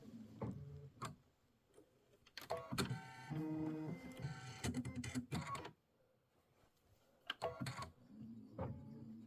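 An embroidery machine stitches a placement line on a quilted bench pillow, with rapid mechanical ticking and whirring in uneven bursts and a brief pause partway through.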